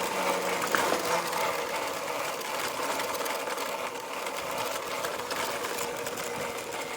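A Honda XR650L motorcycle engine runs in eco mode on a damp trail, giving a steady, dense mechanical drone with constant broadband rush, no talk over it.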